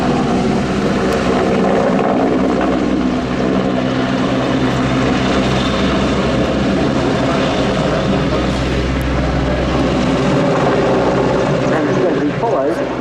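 A Portuguese Air Force Leonardo AW101 Merlin three-engine helicopter in a flying display at RIAT 2025, its loud continuous rotor and turbine roar steady throughout, with a commentator's voice over it.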